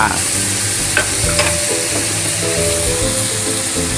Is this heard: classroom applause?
no